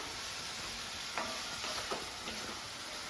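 Prawn roast sautéing in a pan gives a quiet, steady sizzle, with a few soft scrapes and taps of stirring breaking through in the middle.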